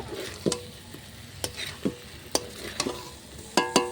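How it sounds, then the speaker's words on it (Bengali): A spatula stirs a frying mixture of onion, potato and bitter gourd in a pan, with irregular scraping knocks over a soft continuous sizzle, close and without talk. "এবার একটু মিশিয়ে নেবো সমস্তর সাথে, খুব ভালো করে এটা কিন্তু মিশিয়ে নেব।"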